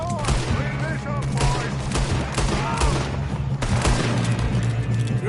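Dense gunfire in Red Dead Redemption 2, a shootout with rapid overlapping rifle and pistol shots, loud and close, with shouting voices and ringing tones mixed into the continuous barrage.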